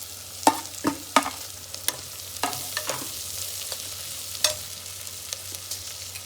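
Masala sizzles and fries in a pan for Karnataka-style tomato bath, with a steady sizzle broken by several sharp spoon scrapes and stirring knocks, close and fairly loud.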